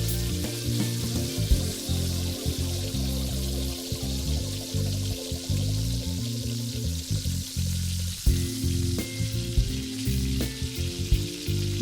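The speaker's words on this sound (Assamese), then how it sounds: "এইখিনিও ভালদৰে মছলাৰ লগত উতল আহিবলৈ দিম" Yogurt and cashew paste simmer with spices in a pan, giving a steady close bubbling sizzle with a few soft pours and pops and no talking.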